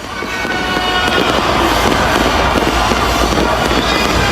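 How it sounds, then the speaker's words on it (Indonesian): Dense, continuous crackling and popping of New Year's Eve fireworks in South Korea fills the air at a steady high loudness, a broad roar of many bursts blending together. "terlihat pesta kembang api di sana"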